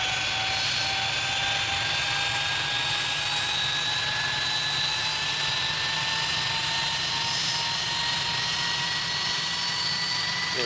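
Steady, loud jet airplane engine roar from an aircraft crossing the runway during a morning rush at a Caribbean airport, with sustained whining tones over a broad rumble, continuous and close throughout.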